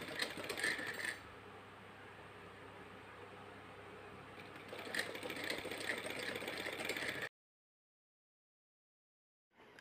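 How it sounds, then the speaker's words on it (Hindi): Sewing machine running steadily while stitching a border onto a printed kurti panel, a close continuous mechanical whir with brief louder bursts at start and end, then stopping into silence. "और इस तरह से इस पर सिलाई लगा देंगे।"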